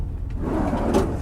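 A file drawer in the storage compartment of a Ford F-250 battalion chief truck slides open or shut with a continuous woody rumble and a slight thump near the end, close and fairly loud with no talking.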